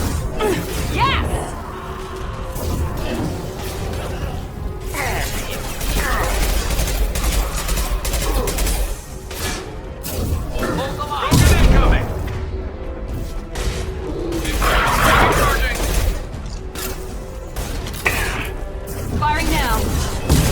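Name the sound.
gunfire in the video game Mass Effect 2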